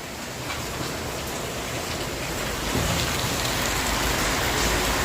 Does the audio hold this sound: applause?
no